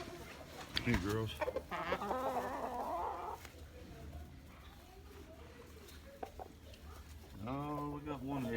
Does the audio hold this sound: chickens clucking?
yes